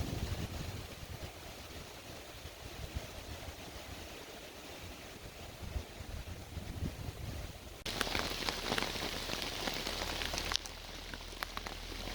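Rain falls steadily at a lakeside campsite, a continuous soft patter of drops that swells into a heavier, louder downpour partway through before easing again, with no voices.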